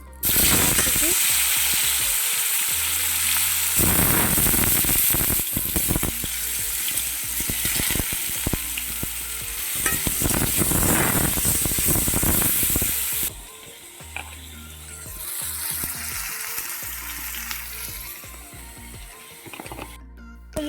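Eggs sizzle and spit in hot oil in a pan for egg curry, loud crackling frying with occasional stirring, easing to a quieter sizzle toward the end.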